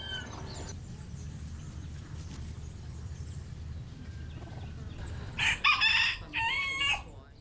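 Outdoor ambience in a vineyard on San Erasmo with low rumbling background, then a rooster crows loudly near the end, followed by further crowing calls.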